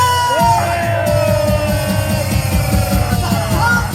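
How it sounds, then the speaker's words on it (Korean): A large outdoor political rally crowd at Gwanghwamun cheering and yelling, loud sustained shouts and whoops over a rhythmic pulsing backdrop, with voices calling out above the roar. "나라 위태로운 나라를 지켜주시는 우리 정광훈 목사님께 여러분 박수와 감상 한번 올립시다"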